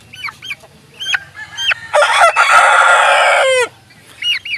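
Texas-breed chickens and roosters cluck in short bursts, then one rooster lets out a long, loud crow up close, followed by more clucking.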